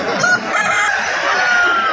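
A rooster for sale at a village market in Bengal lets out a loud, close crow in one brief burst, with faint crowd noise underneath.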